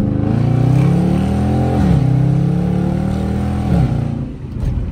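A Dodge Charger RT drifting through corners on an empty road. Its engine gives a loud, continuous roar that rises and dips in pitch as the throttle changes, with no clear voice over it.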